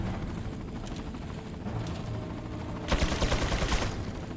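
Machine gun fire in Resident Evil 4 sounds as a sustained rapid burst of loud shots near the end. Softer gunfire and mechanical rumble come before it, and no one speaks.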